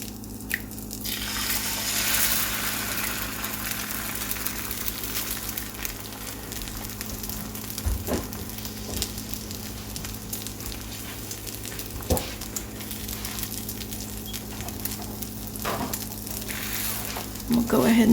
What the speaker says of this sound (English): now that my bacon is starting to crisp up, I'm going to move it to the side, and I'm going to crack 1 egg